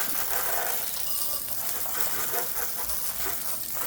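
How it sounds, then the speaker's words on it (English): Water gushes steadily from a hose rinsing a Moto Guzzi V7 850 Special motorcycle, a strong continuous splashing rush close by with no voices. "All right, I'm going to rinse it off"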